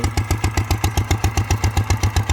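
A small single-cylinder walking tractor engine idles close by, thumping in a quick, even rhythm that stays steady throughout.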